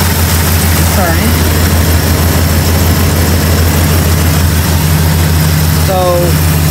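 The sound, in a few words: 1969 Dodge Charger engine idling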